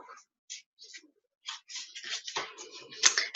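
A quick run of papery clicks and riffling bursts, close and fairly quiet, with short pauses between flurries as a deck is handled.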